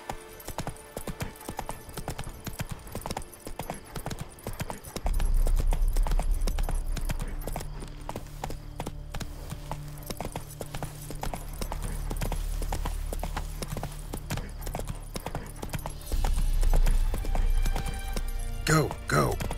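Roach the horse gallops in The Witcher 3, hooves beating in a quick, steady clip-clop rhythm throughout, with a low rumbling score swelling beneath and voices speaking over the ride.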